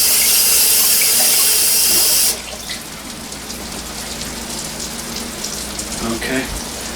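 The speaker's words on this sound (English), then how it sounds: "let me wash my hands off here" Tap water runs loudly into a kitchen sink while hands are washed free of flour. After about two seconds the flow cuts off, leaving faint dripping and handling sounds.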